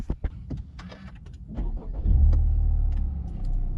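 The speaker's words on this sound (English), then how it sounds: "I love starting this car up." A Honda Civic Type R starts up after a few clicks and clunks, the engine catching with a loud surge and settling into a steady, close rumbling idle.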